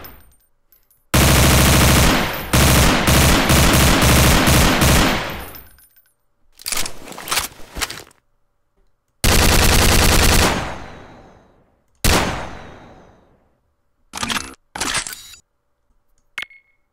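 Bursts of rapid automatic gunfire in Garry's Mod, loud and sharp, come in several volleys separated by short silences, alternating between two different firing sounds.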